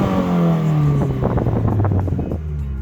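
A 2015 Subaru WRX with a race exhaust rumbles up close with a deep, throaty engine note that swells and drops, a short rev with a crackling burble over a low idle.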